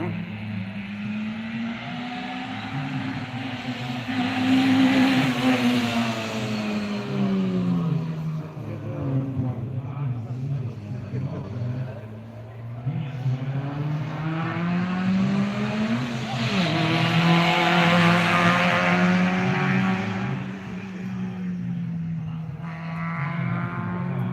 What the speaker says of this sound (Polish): Teraz widzę, że auto wraca.